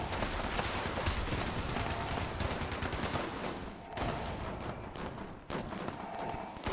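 Rapid weapon fire from Fallout 76 rattles in dense, overlapping bursts through most of the stretch, loud and continuous, with brief pauses and a faint voice underneath.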